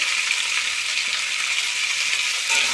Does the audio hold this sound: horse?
no